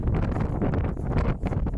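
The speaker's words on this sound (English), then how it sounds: "It is really cold, really windy." Strong, cold wind roars across the microphone in continuous rough gusts, loud and close, with no voices.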